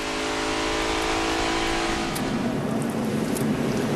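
NASCAR Nationwide race car engine at the 2008 Dollar General 300 as the throttle comes back on, a loud continuous roar that rises and stays strong for the whole stretch, with no voices.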